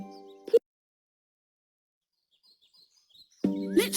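Bird calls near a bird feeder in a children's garden setting: a brief chirp at the start, then faint scattered tweets, ending in a louder burst of chirping, clear and alone with no talk.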